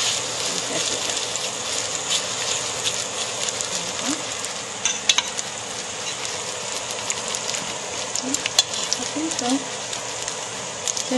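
Small salmon cakes fry in a pan with a steady, bright sizzle that runs throughout. A few clinks and scrapes sound over it, and a person talks over the frying.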